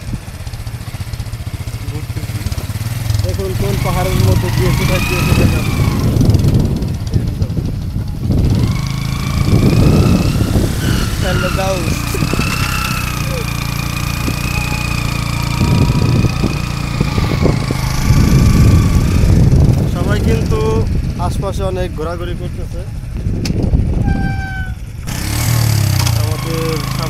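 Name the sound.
motorcycle engine while riding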